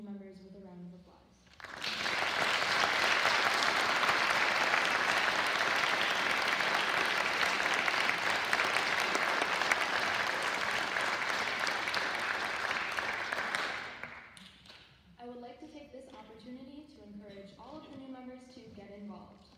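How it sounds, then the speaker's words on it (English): An audience at a high school National Honor Society induction ceremony breaks into loud, sustained applause for about twelve seconds, then it fades and a speaker continues talking. "Let us now all recognize these new members with a round of applause."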